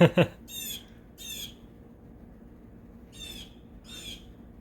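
A pet bird squawks for attention in a few sharp, loud, raspy bursts, spaced apart with quiet gaps between them, close by in a room.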